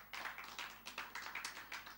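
A church congregation applauding, a quick run of sharp overlapping claps that sounds thin and fairly distant, with no talking.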